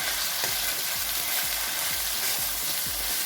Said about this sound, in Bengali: আবার ভালো করে নেড়ে চেড়ে দেবো।